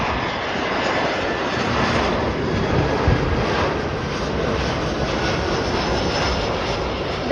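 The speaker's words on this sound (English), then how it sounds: "That is an American Airlines Airbus A319" An American Airlines Airbus A319 arrives at Chicago O'Hare, its jet engines giving a steady broad roar at moderate distance that swells slightly midway, with no talk over it.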